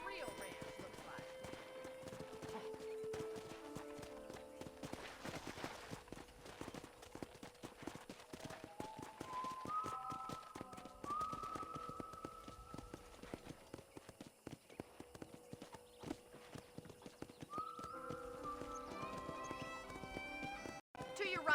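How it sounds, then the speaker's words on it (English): Horse hooves clip-clop steadily in Red Dead Redemption as a ridden horse moves along at a walking rhythm, close and crisp, under spoken dialogue and musical tones. "let's see if you can still ride a horse"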